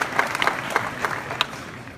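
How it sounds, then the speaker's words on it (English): Audience applause at the Boilermake 2017 hackathon opening, a steady wash of many hands clapping with a few sharper claps standing out, filling a large room without talk. "let's give them a round of applause"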